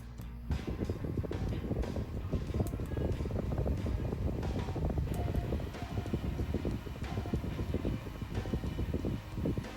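Battery-powered portable fan from AliExpress with a bulkier body and three speed settings, running with a steady close whooshing airflow and rough buffeting noise throughout.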